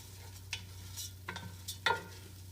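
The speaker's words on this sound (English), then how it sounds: "Keep that moving, stir that around for just a few moments." Food being stirred as it sizzles in butter and olive oil in a pan: a steady close hiss of frying broken by a few quick scraping strokes of the spoon, with no talk.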